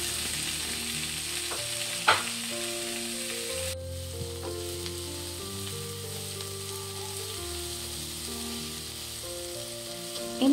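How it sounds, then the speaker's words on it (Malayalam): Chopped tomatoes frying with sautéed onions in a pan for a tuna curry gravy, a steady close sizzle with a few sharp stirring knocks, alongside quiet background music. "തക്കാളി ചെറുതാക്കിയിട്ട് നുറുക്കിയിട്ട് അതിലേക്ക് ഇട്ട് കൊടുക്കാണ് കേട്ടോ."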